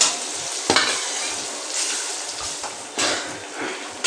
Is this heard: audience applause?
no